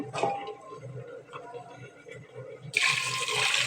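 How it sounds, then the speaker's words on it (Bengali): After a few quiet kitchen clinks, water suddenly gushes into oil-coated lentils in a pressure cooker, a loud rushing pour that continues to the end. "এই যে পানি দিয়ে দিলাম।"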